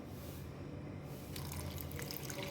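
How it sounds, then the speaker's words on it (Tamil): Soaked tamarind water pours into a mixer grinder jar for a paneer ghee roast paste, a steady splashing trickle that grows brighter and busier partway through. "புளி தண்ணி ஊற்றிக்கோங்க."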